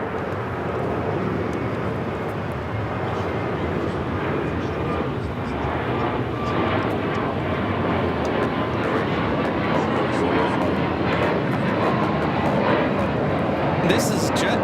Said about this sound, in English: This is JetBlue Flight 288 taking off to Boston on the A321neo.